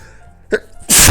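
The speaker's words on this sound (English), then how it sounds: "feel a sneeze coming on." A single sharp sneeze bursts out loud and close near the end, preceded by a brief intake of breath, with no talking around it.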